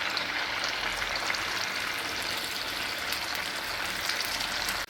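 Rice-flour vada deep-frying in hot oil, a dense continuous bubbling sizzle that stays loud and even throughout before cutting off at the end.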